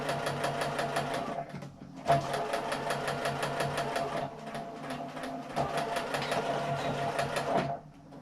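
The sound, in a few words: sewing machine stitching a hand sanitizer pouch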